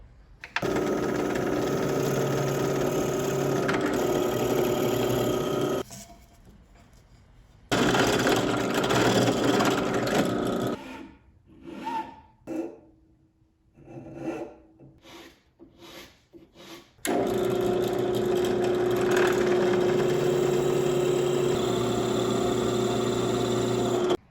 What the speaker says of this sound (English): we need to drill all the way through here for the axles